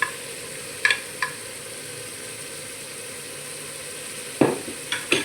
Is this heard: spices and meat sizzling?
yes